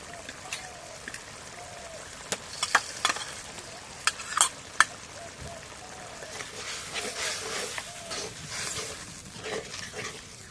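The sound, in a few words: sautéing spices in goat fat for biryani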